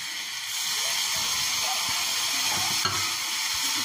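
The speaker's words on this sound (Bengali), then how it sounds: "এটা ভালো করে কষতে থাকবো" Katla fish kaliya masala sautéing in a pan with tomato paste and a splash of water, giving a steady close sizzle and hiss with occasional stirring scrapes and no talk.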